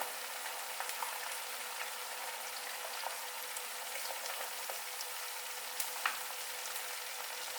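Eggs fry in a stainless steel pan with a steady, soft, even sizzle and occasional tiny pops, heard alone without talk.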